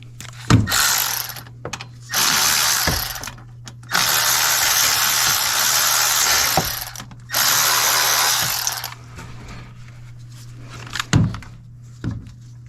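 Power tool or ratchet undoing bolts beneath the engine of a Sprinter van during an oil cooler replacement, running in several sustained bursts of whirring and clicking with short pauses and a few sharp knocks between them.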